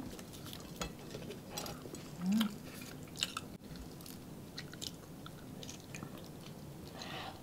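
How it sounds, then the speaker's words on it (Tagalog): Someone chews fried garlic chicken drumstick close to the mic, with quiet wet bites and soft crunches over a faint background, plus a brief louder bite. "Kain po, unang kagat po tayo."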